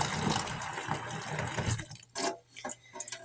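Hot water pours into a bottle being cleaned, a gurgling stream running for about two seconds before breaking into a few short splashes and drips, close and fairly quiet.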